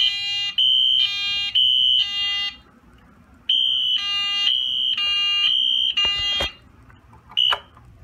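A fire alarm set off by pulling an EST Siga glass rod pull station blares in loud repeating electronic beeps in an interior space, pausing briefly before resuming, with a couple of sharp clicks near the end.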